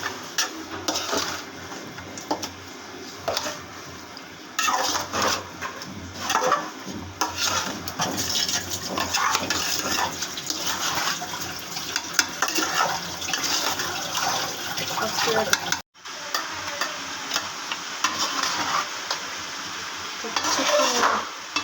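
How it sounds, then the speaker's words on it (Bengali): Food being stirred and mixed in a pot in a home kitchen, a steady scraping and swishing that goes on throughout with a brief gap near the end, no talking. "মিশিয়ে নিব পুরোটা"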